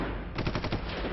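Rapid bursts of gunfire during an NSG commando operation against terrorists, a short loud volley of several quick shots right after an instant of heavy rumble, with no voices.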